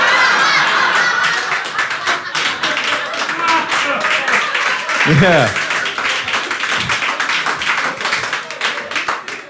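Audience clapping and scattered laughter at a stand-up comedy show, dense patters of applause rising and tapering under a brief spoken word.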